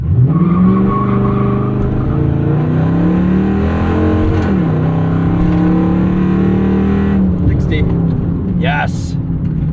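Dodge Charger Ute with a front-mounted Hemi V8 launches hard from a standstill, its loud engine note climbing steadily through the revs with a brief dip at a shift, then pulling on, heard close from inside the cabin.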